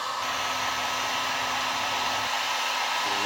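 A soldering gun heats salvaged parts on a scrap circuit board, giving a loud, continuous airy blowing hiss close by with no pauses.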